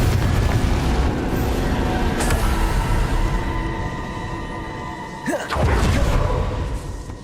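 A Confringo fire spell bursts in Hogwarts Legacy, a series of booming blasts with rumbling roars and a sharp whooshing strike near the end, loud and close.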